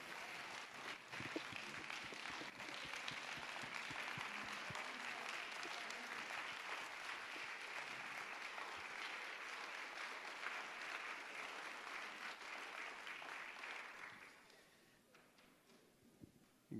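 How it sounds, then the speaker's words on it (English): An audience at a plenary session gives sustained, fairly faint applause that carries evenly for about fourteen seconds before fading away to near silence. "Let's give another round of applause for Dr."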